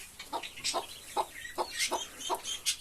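A broody hen clucks in a steady, repeated rhythm of short, soft calls, close by but fairly quiet, with no talk.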